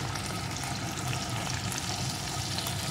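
Small fish and cabbage fry in a pan with a dense, loud, continuous sizzle and crackle that stays even throughout, with no voices.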